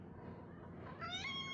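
A female cat in heat gives a single drawn-out meow that rises at the end, fairly faint against a low rumbling background, with no talking over it.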